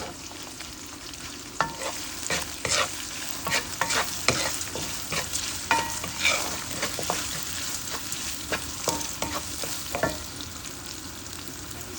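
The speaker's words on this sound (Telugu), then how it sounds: "చిన్న చిన్న ముక్కలుగా ఇలా కట్ చేసేసుకొని ఈ పోపులో బాగా వేయించేసేయాలి." Chopped garlic frying in hot tempering oil, a steady close sizzle broken by repeated stirring scrapes and clicks, with no one speaking.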